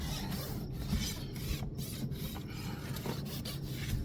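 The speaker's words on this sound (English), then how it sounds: "You can kind of see how I'm running my rasp around that edge" A farrier's rasp files around the edge of a massive draft horse's hoof in quick, rhythmic back-and-forth strokes, close and steady, with no talking.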